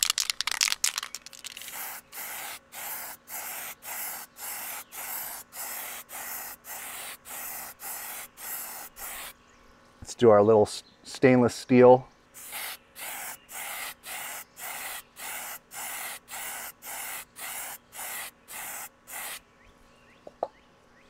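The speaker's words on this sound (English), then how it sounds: "when you spray this on, you should have a nice even spray" Short bursts of aerosol spray hiss onto a piece of aluminum in a steady, even rhythm, pausing briefly while a person speaks, then resuming the regular spraying.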